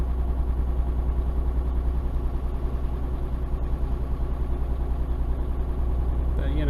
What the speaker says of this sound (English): I love all these vehicles that drive past.